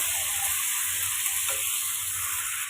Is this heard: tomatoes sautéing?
yes